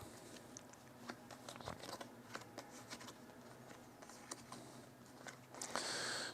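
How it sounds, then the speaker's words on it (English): A deck of cards being shuffled during a solo tabletop fly-fishing board game, soft riffling and flicking close by, quiet, ending with a brighter burst of rapid card riffle. "Shuffle up the strike deck."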